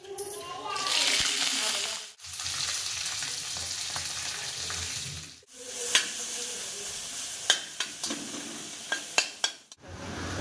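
Sautéing in hot oil in a kadai, with a steady sizzle and frying hiss broken by brief pauses and sharp clinks of a spoon stirring against the pan, close and moderately loud.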